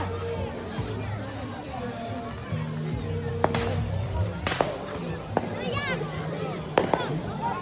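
Fireworks going off at a Fourth of July party at a house, with several sharp bangs spaced irregularly over a background of crowd chatter and voices.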